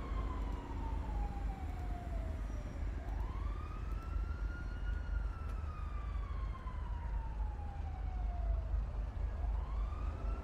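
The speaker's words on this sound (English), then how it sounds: "I hear it sounds like it sounds like an ambulance." Ambulance siren wailing in long rising and falling sweeps, fairly distant but steady throughout, over a low background rumble with no talk.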